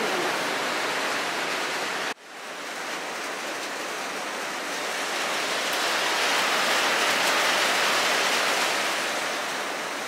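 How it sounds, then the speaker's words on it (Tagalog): Heavy rain pouring down steadily, a dense loud hiss that drops briefly, then builds again and stays strong and continuous with no voices. "sobrang lakas ng ulan."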